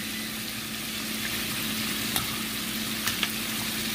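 Wild-caught shrimp frying in oil: a dense, even sizzle continues close and steady, broken by a few faint clicks, with no talking.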